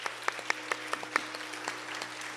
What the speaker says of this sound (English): Please give a big round of applause to Radha